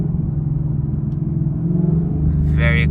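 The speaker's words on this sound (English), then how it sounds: "Let's do a couple downshifts here as it's kind of slowing down so you can see it." A Ford Mustang GT V8 with a manual transmission rumbles steadily as the car slows, a low engine drone that swells briefly at the end as a downshift blips the revs.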